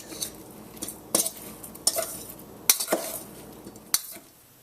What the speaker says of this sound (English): Now I'm mixing this well to coat each piece.